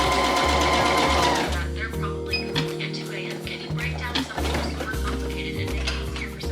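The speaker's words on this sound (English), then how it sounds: "just gonna sew here with an edge stitch the hole closed" A sewing machine edge-stitching a bag lining closed, running in loud steady whirring bursts that stop and start, while a person talks over parts of it.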